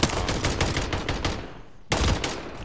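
Sniper rifle shots in a video game, two loud sharp reports roughly two seconds apart, the first trailing off into a decaying echo before the second cracks out close and strong.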